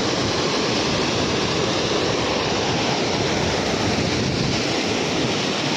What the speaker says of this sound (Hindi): झरना देखिए कितना खूबसूरत है, एकदम दूध की तरह वाइट पानी